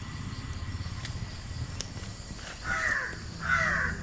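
A crow caws twice, loud and harsh, following a stretch of low rumbling background noise in a kitchen.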